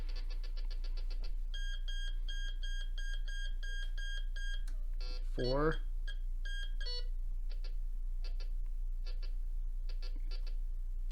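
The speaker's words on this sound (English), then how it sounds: "That annoying beeping, it almost sounds like a threshold." A SUNPOW MD02 metal detector sounds a run of electronic beeps and tones, steady pulsed bursts early, then a rising sweep and scattered short bleeps, with a spoken word briefly heard.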